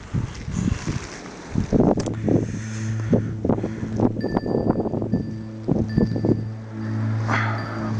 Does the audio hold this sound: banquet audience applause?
no